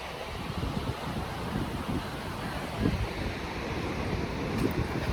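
Sea waves breaking at a beach make a steady, rolling surf roar with soft surges, heard up close and mixed with wind noise on the microphone.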